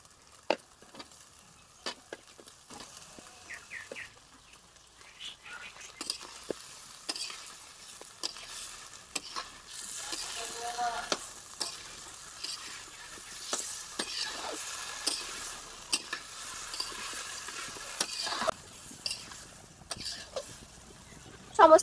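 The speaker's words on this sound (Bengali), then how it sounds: "সমস্ত সবজি দিয়ে একটু নেড়ে চেড়ে নিয়েছি" Shukto vegetables with drumsticks stirred in a hot pan, a soft ongoing sizzle broken by repeated scraping and clacking of the spatula against the metal, close by with irregular rhythm.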